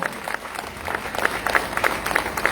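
An audience at an Aam Aadmi Party rally in Durg claps in a brief, dense burst of applause, with a few sharper claps standing out near the end.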